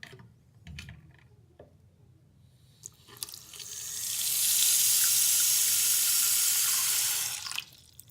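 Tap water pours into a bathroom sink basin during a drain replacement, a steady rushing stream that runs for a few seconds after faint clicks and handling noises, then cuts off.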